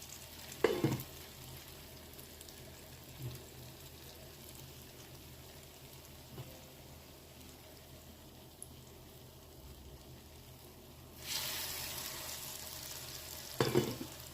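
Breadcrumb-coated beetroot cutlets shallow fry in oil with a soft continuous sizzle, punctuated by a few sharp knocks and clatters and a louder burst of spitting toward the end.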